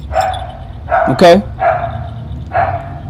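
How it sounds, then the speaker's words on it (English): A dog barks in bursts at moderate distance, roughly four short clusters across a few seconds, with a person speaking over and between the barks. "You hear that dog barking?"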